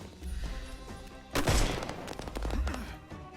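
Gunfire in the video game Sherlock Holmes Chapter One: a burst of loud shots erupts midway, with scattered cracks after it, over background game music and effects.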